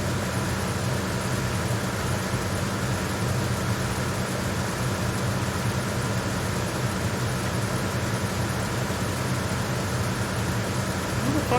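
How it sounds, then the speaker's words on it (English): Steady mechanical drone of engine room machinery in Metal Gear Solid 2, a continuous low rumble and hum filling the space at an even level throughout, with someone talking over it. "it is the engine room"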